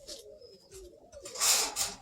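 Roller pigeons give soft, throaty coos close by, broken by airy rustling and a louder burst toward the end, with no talk.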